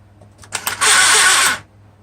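A Mercedes SL600 electronic throttle body powered up on a bench late at night lets out a few quick ticks, then a steady, loud whirring buzz lasting under a second before cutting off cleanly.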